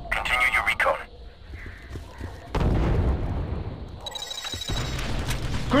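Grenade blasts go off in Star Wars Republic Commando combat, heavy booms and bursts breaking through a dense, shifting battle din, with sharp changes in loudness and voices in the mix.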